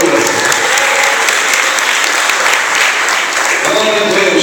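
Church congregation applauding in a sustained, dense burst of clapping that fills the space, steady and loud throughout with faint voices mixed in near the end.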